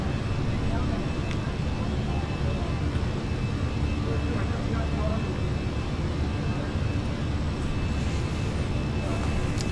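An Airbus A319 airliner climbing in flight gives a steady, dense roar of engine and airflow that stays at an even level from start to finish.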